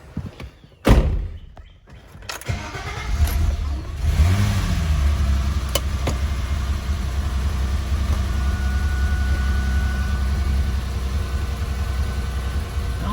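A BMW E30 325iS engine hums and revs as the car pulls away, preceded by a door thunk and some shuffling, then holds a steady, moderate drone while driving.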